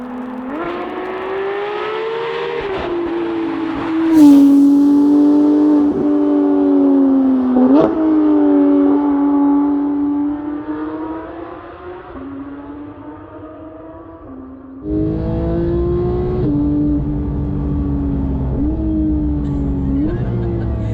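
Porsche 991.2 GT3 flat-six on a public road, a loud tonal engine note climbing and falling through revs as it accelerates, with a brief drop after mid-way and a renewed surge toward the end, heard from inside the car.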